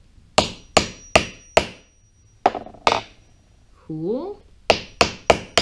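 Sharp hammer strikes set a snap stud through fabric in quick groups of three and four loud, close whacks, with a brief spoken word between them.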